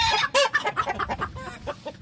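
A small hen clucks up close, a rapid run of short, busy clucks and squawks that carries on without a break.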